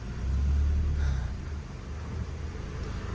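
A 2000–2001 Toyota Qualis after full mechanical work rumbles along the road, its engine a low, even drone that swells briefly and then settles, heard from inside with no talk.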